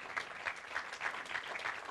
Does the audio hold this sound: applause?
yes